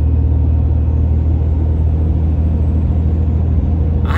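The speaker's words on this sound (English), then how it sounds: "stock turbo Cummins, that's how it should sound" Cummins 6.7 diesel pickup with stock turbo and an aftermarket intake, a heavy, steady low rumble of engine and exhaust heard close and continuous while driving, with no voices.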